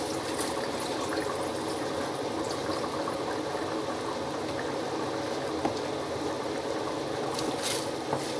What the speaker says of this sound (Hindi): जब पानी को जोश आ जाएगा तो फिर चावल डालेंगे। मैं चावल डालूँगी, पानी उबाल लेते हैं।